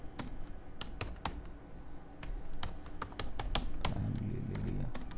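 Fingers type on a computer keyboard while CSS code is entered, a close run of sharp, uneven clicks in quick bursts with brief pauses, over a low room hum and no speech.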